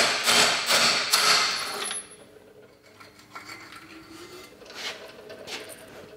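Several sharp metallic hammer strikes on a 19mm socket with an extension ring out in quick succession, driving bearings out of a Johnson 30 HP outboard lower unit, then quieter clinking and scraping, with a couple more taps near the end.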